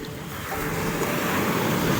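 Sea waves roll onto a crowded Odesa beach, a steady broad roar of surf, close and fairly loud, continuing unbroken with no voices.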